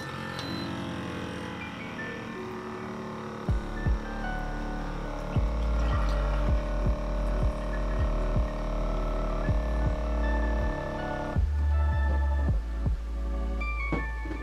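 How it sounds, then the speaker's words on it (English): A CONQUECO portable espresso machine runs with a steady close electric hum and throbbing pump pulses, punctuated by repeated low thumps and a brief pouring sound as it makes cold coffee. "This machine also does like a cold press coffee as well, so you can just get cold coffee through it."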